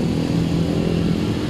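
A motorcycle engine with a 59 big-valve setup running close and loud, a brief steady buzzing drone without voices.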